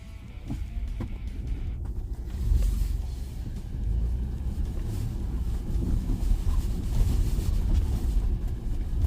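A Ford Bronco accelerates along snowy backroads with stability control on, a heavy engine and tire rumble swelling and holding steady from inside the cabin, mixed with wind noise and no talking.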